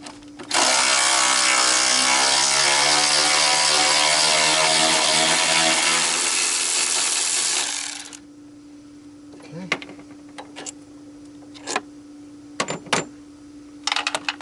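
A power tool whirs loudly and steadily for about seven seconds on an 18 mm nut and bolt holding a car's motor mount bracket, then cuts off, followed by a few sharp metallic clicks and clinks from the work.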